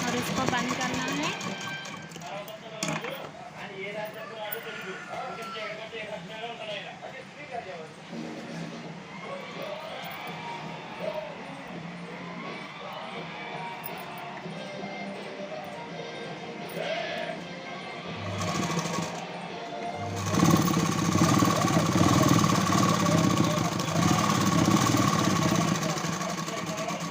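A sewing machine stitches a hook strip onto a blouse front. A voice talks over quieter background for most of the stretch, then a loud, steady mechanical whirr of stitching takes over near the end.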